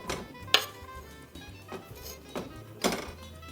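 A small saucepan clanks on a home kitchen stove, with a few sharp metallic knocks and thunks spaced irregularly, close and moderately loud, no talk.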